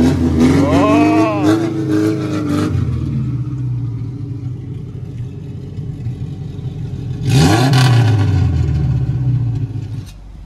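A Tofaş car with an LPG-converted, modified exhaust revs hard in an industrial area, with two loud, rising throttle bursts separated by a rumbling idle, close to the listener.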